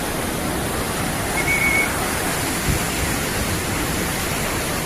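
Athirappilly waterfall in Kerala thunders in a steady, unbroken roar heard from close by, loud and continuous with no voices over it.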